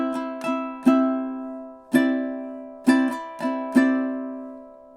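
Ukulele strummed in triplet strokes through two measures of the Hawaiian song Loke Lani, bright ringing chords struck in uneven clusters, each decaying before the next, played alone.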